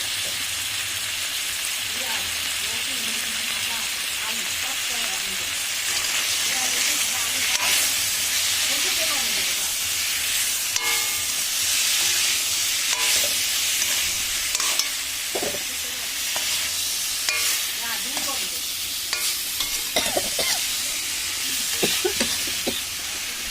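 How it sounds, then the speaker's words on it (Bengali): Steady frying sizzle and hiss from a pan of Bengali rui fish curry as turmeric goes in, with stirring scrapes and clinks throughout, close and continuous with no talk. "আমি দিচ্ছি হলুদ।"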